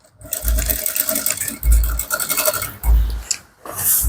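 A sewing machine stitches a half-inch crotch seam on Ankara fabric in short, rasping runs with brief pauses between bursts, loud and close.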